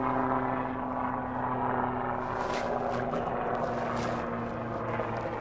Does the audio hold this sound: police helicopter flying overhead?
yes